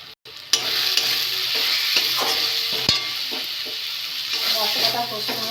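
Oil sizzles steadily as a spice masala of turmeric, chili, coriander and cumin fries for tilapia curry, with a sharp burst at the start, then repeated stirring scrapes and clatters under the hiss.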